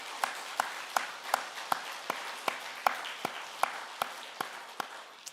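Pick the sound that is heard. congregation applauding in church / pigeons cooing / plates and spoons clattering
congregation applauding in church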